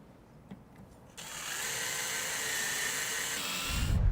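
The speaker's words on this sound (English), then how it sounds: "drive that screw all the way in" A power drill or driver runs steadily, driving a screw into the header of a Bestop Trektop soft top on a Jeep, its motor whine holding for about two seconds before a low thump near the end.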